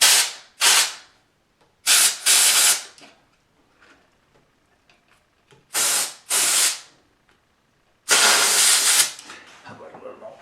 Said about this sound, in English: So I like to use the compressed air.